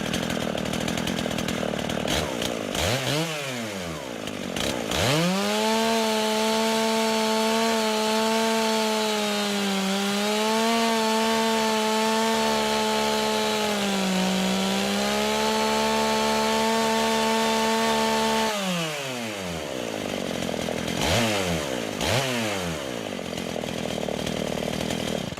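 Smoking, overheating chainsaw revved and held at high idle for about thirteen seconds, with rising and falling engine pitch at start and end and a few throttle blips, loud and close with no talking.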